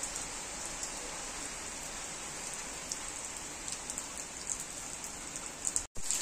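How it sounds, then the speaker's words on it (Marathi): Steady rain pattering onto a small garden during a heavy, continuing monsoon downpour, a dense even hiss of drops throughout, close and constant, with a brief dropout near the end. "पाऊस चालू झालंय."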